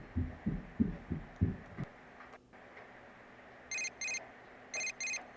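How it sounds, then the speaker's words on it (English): Low pulsing thumps give way to a phone ringing in the video game Persona 4 Golden: two quick bright double-rings, a short pause, then two more, clear and close with no voices. "Your phone is ringing."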